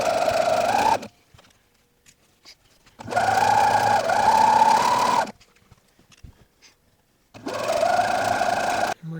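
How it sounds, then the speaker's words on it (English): A sewing machine topstitches a one-inch hem on a pink wrap dress in three loud, close bursts of steady whirring, separated by pauses of near silence. "I am going to sew up this hem with a top stitch."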